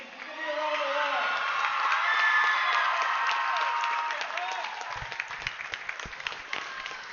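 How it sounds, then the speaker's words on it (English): A crowd at a girls' state tournament hockey game in Sioux Falls breaks into sustained applause and cheering that swells, holds for several seconds, then thins out into a few scattered claps. "Give me a round of applause."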